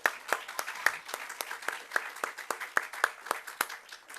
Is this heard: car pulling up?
no